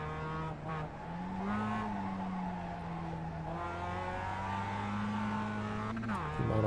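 A race car in iRacing drives on its last lap on badly worn tyres, the engine droning steadily and shifting pitch through corners, with a faint tyre squeal and a gear change near the end.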